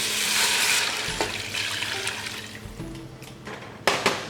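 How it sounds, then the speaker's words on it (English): About three cups of water run and splash steadily into a cooking pot for several seconds, a continuous close pouring wash with a few clinks of cookware. "We're going to add right around 3 cups of water."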